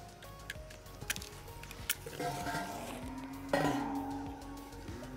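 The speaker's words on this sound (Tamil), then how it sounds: "புது தவையில் சில துருவெல்லாம் இருக்கும், அதெல்லாம் நல்லா க்ளீன் பண்ணுறதுக்கு சொல்லி வெங்காயம் யூஸ் பண்ணி நல்லா தேய்க்கும்." A new iron griddle is rubbed with an onion to scour off rust, giving close scraping and grinding strokes with light metallic clinks, fairly quiet and continuous over a low background hum.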